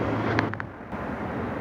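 A car engine idles during an A/C Freon recharge, a steady low hum and drone running throughout, with brief faint clicks near the start, up close and without talking.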